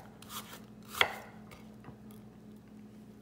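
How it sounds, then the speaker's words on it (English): Onions being chopped with a knife on a cutting board: a few soft cuts and one sharp, close chop near the start, quiet overall with no talking. "Nice little chopped onions."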